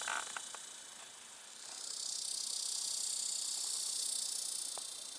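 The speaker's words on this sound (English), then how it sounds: "them cicada bugs are freaky, man" Cicadas drone in Arizona desert heat, a steady high-pitched buzz that swells louder partway through and holds, with a few faint clicks near the start and no talking.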